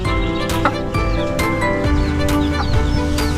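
Several chickens in a small backyard coop cluck and call over one another, with close, continuous, overlapping clucks and sharper squawks at intervals.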